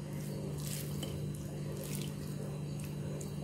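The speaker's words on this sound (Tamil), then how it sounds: "நல்லா தண்ணி வடிச்சுட்டு எடுத்துக்கோங்க ப்ரான்ஸை" Water draining through a strainer holding washed prawns, a quiet continuous trickle and splash with scattered drips, faint and steady throughout.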